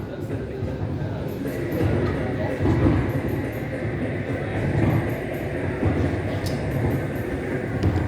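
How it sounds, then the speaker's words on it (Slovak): A train-like rumble and rattle at the Technik Museum Sinsheim rolls on steadily with a rhythmic clatter, fairly loud and close, while visitors talk nearby. "Tam to znie jak vlak."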